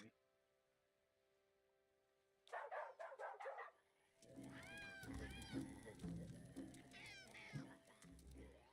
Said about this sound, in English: That cat probably isn't too happy with